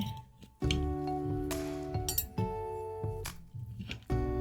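A knife and fork clink and scrape against a plate while cutting a cooked piece of chicken tikka, giving several bright, ringing taps and short scrapes up close with brief pauses between them.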